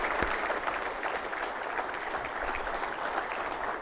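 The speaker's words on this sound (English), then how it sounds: "please join me in giving a round of applause" Audience applause at a national association convention general session, steady broadband clapping across the whole stretch, moderately loud in a large hall with no voices over it.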